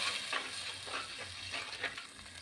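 A tamarind curry with prawns, egg and okra is stirred in a pan, producing a steady soft sizzle with faint repeated scraping strokes, fairly quiet and without any talk.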